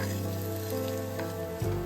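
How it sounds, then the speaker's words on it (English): Adai, a lentil dosa, crisps in oil on a hot pan with a steady, continuous sizzle under background music. "Spread the oil all over. Let the dosa become crisp."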